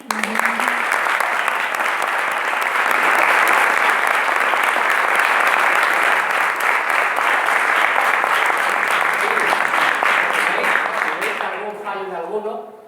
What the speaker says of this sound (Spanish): Así que quiero que le hagáis un aplauso.